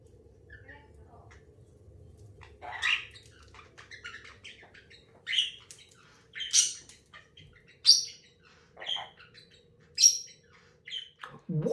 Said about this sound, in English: it's not the GameZone Birdroom without all the birds